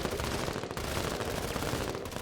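Video game gunfire: a continuous, dense wash of rapid shots and bursts blending into a steady roar with no pause for the whole stretch, no voices heard.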